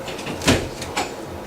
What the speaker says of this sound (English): I'll open this door. Hopefully it doesn't get too loud.